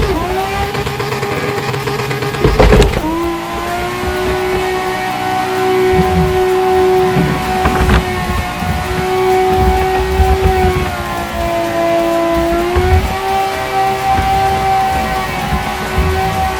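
A car engine revs hard and holds high during a burnout, with the brake held firm, producing a loud sustained roar that dips and climbs a few times; close and dominant, no voices.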